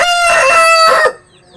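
A domestic country rooster at a backyard chicken coop gives one close, loud crow that lasts about a second and then drops away into near quiet.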